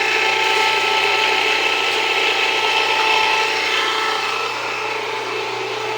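A Jiffy precision mill grinding steadily, a dense continuous mechanical whir with a ratcheting, gear-like texture that stays loud throughout and eases slightly toward the end, with no voices.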